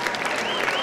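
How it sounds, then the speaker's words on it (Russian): The gallery at a student beauty pageant, Miss Student 2012, applauds in a dense, steady burst of clapping from a crowd, with no voices over it. "Это аплодирует галерка."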